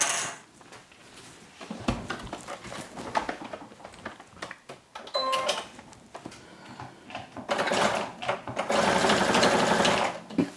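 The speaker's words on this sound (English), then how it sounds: "So we're going to sew across first." A sewing machine stitches across the edge of a tea towel, its motor whirring in bursts with brief pauses between runs, ending in a longer, louder continuous stretch near the end.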